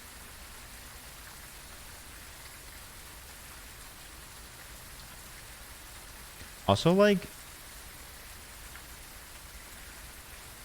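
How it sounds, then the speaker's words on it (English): Steady broadband rain pours throughout a video game scene, a constant even hiss, with a short burst of speech near the middle. "I guess you'd be more likely to hear it if it wasn't raining."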